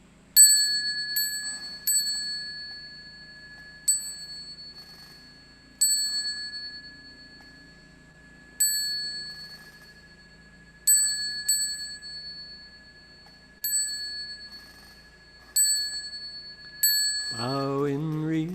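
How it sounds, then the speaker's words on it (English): A bell at a Buddhist lecture is struck repeatedly, about eleven clear, ringing strikes at uneven intervals, each decaying slowly in a quiet hall, before a sung voice begins at the end. "we're going to ring the bell 3 times"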